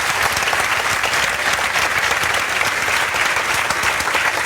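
Steady audience applause fills the whole stretch, loud and dense with no voices above it, clapping honoring a laborer's son now a clerk and his father standing before the crowd.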